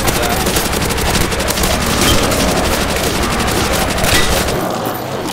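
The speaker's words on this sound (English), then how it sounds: "Tommy gun." A Tommy gun firing in Call of Duty, a loud continuous stream of rapid automatic shots with booming reports, dense and unbroken for several seconds before easing slightly at the end.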